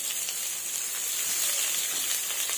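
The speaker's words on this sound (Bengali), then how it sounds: "এরপর ওই কড়াইতে আর অল্প সর্ষের তেল দিয়ে দিচ্ছি। এর মধ্যে দিয়ে দিচ্ছি কেটে রাখা আলু। আলুটা ভেজে নেব।" Potatoes fry in mustard oil in a wok, giving a steady, close sizzle and crackle that holds evenly throughout with no talking.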